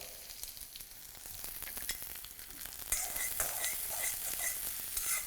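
Onions frying in mustard oil for a bhindi dish, a steady crackling sizzle with light stirring, growing brighter and louder partway through, with no talk.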